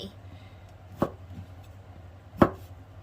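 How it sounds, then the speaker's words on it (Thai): Two sharp knife chops on a cutting board, about a second and a half apart, slicing boiled bamboo shoots for a pork bone bamboo shoot soup, close and distinct over a low background hum. "หน่อไม้ต้มเสร็จนะ ก็มาหั่นแบบนี้ค่ะ"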